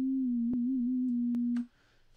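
A sustained synthesizer tone from the LMN-3 emulator holds a steady pitch and then wobbles slightly as the pitch bend moves it. Faint clicks sound over it, and the tone then cuts off into quiet.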